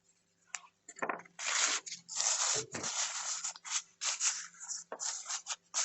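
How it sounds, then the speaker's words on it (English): A blender stick rubs pencil lead across sketchbook paper in quick, scratchy strokes with brief pauses between passes, soft and close. "I'm going to take my blender stick, and my blender stick is just to help melt the lead, soften the lead up a little bit"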